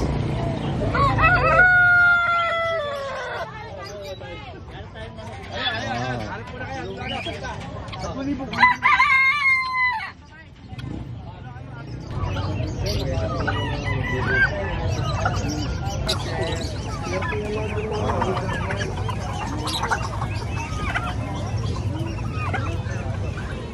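A rooster crows loudly several times amid the clucks and honks of assorted poultry, ducks and turkeys in a busy farmyard. Background chatter and general yard noise run underneath throughout.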